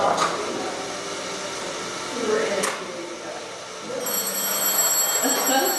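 A synthesizer art piece produces a telephone-like ringing: bright, sustained electronic tones that grow denser toward the end, over a noisy mid-level background with a brief sharp burst midway.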